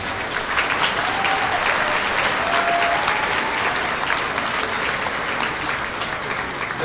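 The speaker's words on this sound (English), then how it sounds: "how about a nice round of applause for all of our award winners tonight" An audience at the Tribute to Champions 2024 awards night applauds its award winners. The sustained, dense clapping stays loud and even from start to finish.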